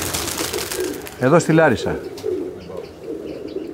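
Tumbler pigeons coo in Larissa, a few soft throaty warbles rising out of outdoor background noise while someone speaks over them nearby.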